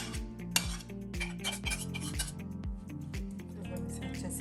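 Eggless fruit cake batter thinned with juice is mixed in a bowl, with repeated close clinks and scrapes of a utensil against the bowl over background music.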